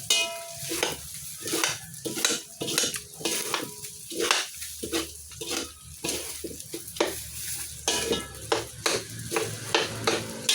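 A spoon stirs a breakfast mixture in a pan, with repeated scraping strokes in an uneven rhythm over a soft frying sizzle, close and fairly loud.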